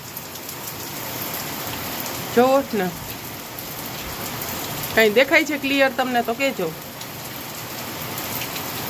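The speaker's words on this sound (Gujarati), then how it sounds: "તમને દેખાતો હશે કેટલો વરસાદ પડે છે" Heavy night rain pours down in Junagadh with some wind, a steady close hiss of drops on surfaces that runs throughout while someone speaks briefly twice over it.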